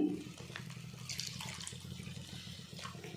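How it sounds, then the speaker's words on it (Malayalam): Water is poured into a pan for a fish curry made without coconut milk. It makes a soft, steady splashing rush heard close and quiet, with no talking. "2 ഗ്ലാസ് വെള്ളം ഒഴിക്കുന്നുണ്ട് കേട്ടോ"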